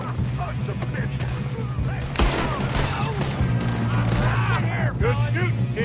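Western gunfight in Red Dead Redemption 2, with repeated rifle and revolver shots cracking through a steady din of battle, close and loud, as characters shout over the shooting.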